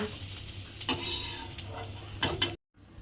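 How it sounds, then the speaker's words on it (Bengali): Onion, garlic and green chilli lightly frying in a pan, with a close soft sizzle and a couple of sharp utensil scrapes before the sound cuts off abruptly. "পেঁয়াজ, রসুন আর কাঁচা লঙ্কাটাও কিন্তু আমার হালকা করে ভাজা হয়ে গেছে।"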